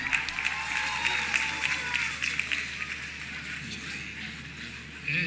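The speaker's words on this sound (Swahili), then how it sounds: "Tupigie makofi zawadi." Applause from the crowd at the Kenyatta University 52nd graduation ceremony as a gift is presented: sustained, fairly even clapping over a background murmur.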